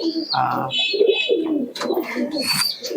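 Domestic and foreign pigeons, around thirty-five to forty birds, coo in a home-built iron cage, with soft overlapping coos and chirps close by as people talk.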